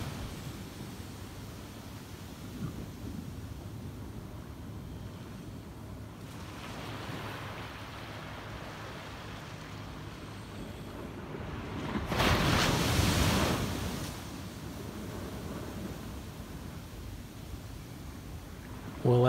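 Ocean waves wash steadily onto the shore with wind noise across the microphone, a continuous roar that swells into one louder crash midway through, with no talking.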